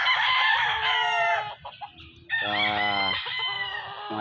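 A broodcock rooster crows loudly and close by, two long drawn-out calls separated by a short gap, with faint clucking from other fowl underneath.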